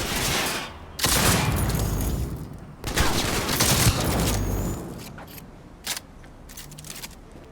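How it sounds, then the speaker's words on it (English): Heavy shotgun blasts in Cyberpunk 2077 land in a few loud, booming bursts spread over several seconds, with rougher firefight noise between them and some lighter clicks near the end. "Shotgun time."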